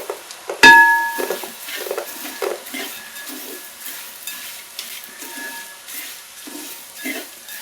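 Dried shrimp frying in hot oil for a mango pickle: a steady soft sizzle and crackle with a sharp metal clink near the start and occasional stirring scrapes, no voices.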